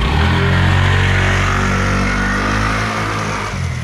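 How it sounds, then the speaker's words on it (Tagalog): A CVT motorcycle engine revs loudly and continuously nearby, a deep throaty roar with rising and falling pitch. "Narinig yung angil ng makina,"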